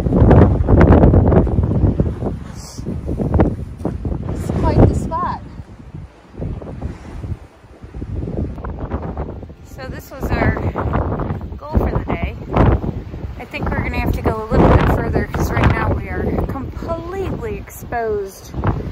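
Strong wind buffets the microphone at an exposed spot on the Pacific Crest Trail, a loud continuous roar with gusty swells, while a person talks over it much of the time.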